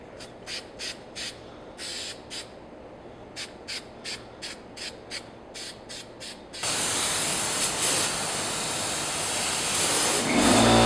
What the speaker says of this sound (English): I'm going to make sure I do a thin coat of spray 77 all over the helmet.